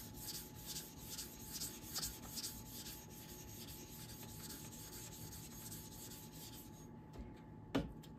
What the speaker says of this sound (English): I'm going to raise a slurry with a diamond plate, this worn out diamond plate, add to my plate